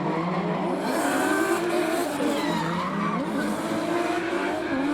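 A Nissan Silvia drift car skids up the track at Wellington Speedway during drift series qualifying, tires squealing steadily over a loud, revving engine for several seconds, close and continuous.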